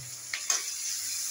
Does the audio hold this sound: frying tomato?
yes